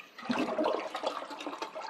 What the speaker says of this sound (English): What I do is I go ahead and run all the water out of the tank